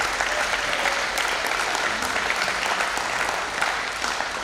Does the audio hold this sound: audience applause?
yes